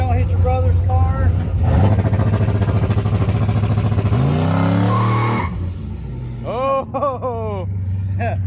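Turbocharged GMC Canyon pickup with a CO2 boost setup revving hard and accelerating in second gear, a loud sustained engine roar with rising pitch that cuts off abruptly, while people shout and talk over it.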